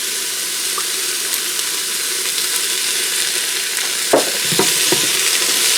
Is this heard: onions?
yes